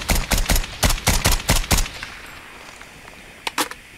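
SKS rifle fire in Call of Duty Mobile: about nine sharp, loud shots in quick rhythmic succession, a short quiet gap, then two more rapid shots near the end.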